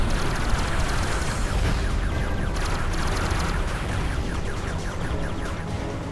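Shooting and explosions fill a Ratchet & Clank space stage as ships are blasted, a dense, continuous barrage of rapid gunfire and booms, loud and close with no pauses.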